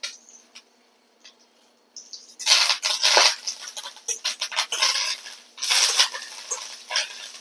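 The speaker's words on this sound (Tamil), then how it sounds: "வர மிளகா ஒரு அஞ்சாறு மிளகா போட்டிருக்காங்க இது கூடவே நம்ம கருவேப்பிலையும் ஒரு கொத்து போட்டு வறுத்து எடுத்துக்கலாம்" A handful of dried red chillies and a sprig of curry leaves roast in a pan for urad dal chutney, breaking into loud crackling sizzles and stirring clatter after a brief quiet start.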